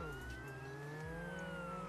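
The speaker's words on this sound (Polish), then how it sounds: "Jedzie policja!" Police car siren wailing steadily with a rising and falling tone, faint and somewhat distant, heard alone over a low hum.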